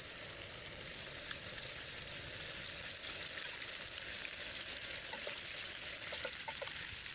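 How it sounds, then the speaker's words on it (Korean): Beef chuck flap steak frying in a mess tin at a motorcycle campsite gives a steady, dense sizzle with faint crackles and pops throughout, heard up close with no talking. "잠시 고기가 튀겨지는 소리를 들어볼까요?"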